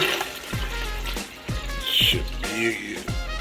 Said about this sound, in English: we're going to carefully pour it inside